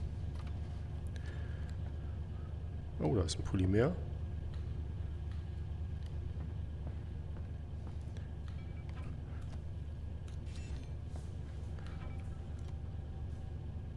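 A car engine idles steadily in Half-Life: Alyx, a low continuous rumble running throughout, with a brief louder sweep near the start and someone talking once over it.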